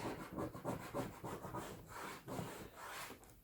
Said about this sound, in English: So I have a damp wet cloth, just rub it off